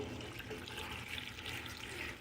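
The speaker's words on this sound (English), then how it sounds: "I'm going to put my water in." Water streams steadily into a large pot being filled to boil purple hull peas for jelly, a soft, continuous splashing pour heard alone and fairly quiet.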